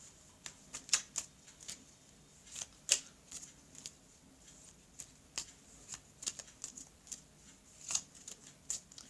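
Tarot cards are handled and drawn from a deck in a series of soft, quick, close flicks and shuffling snaps, scattered irregularly through a quiet room.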